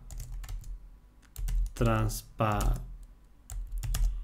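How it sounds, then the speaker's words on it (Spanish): Keys clatter on a computer keyboard in quick irregular bursts during Windows 10 settings entry, the taps fairly close and mixed with a person speaking. "Aquí tenéis que escribir lo siguiente, respetando las mayúsculas y las minúsculas."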